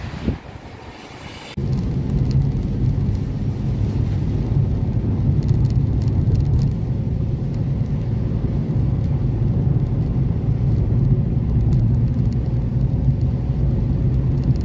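A car drives along a winding Konkan ghat road, with a loud, steady engine and tyre rumble that holds throughout after a brief quieter moment at the start.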